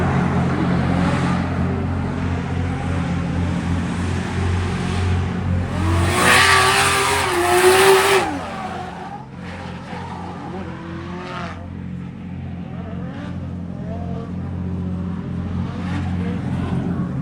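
A Mazda RX-7 FD revs hard and sweeps past with tire squeal at Ebisu circuit on a rainy practice day, the engine peaking loudly mid-way, then fading as other cars drone in the distance.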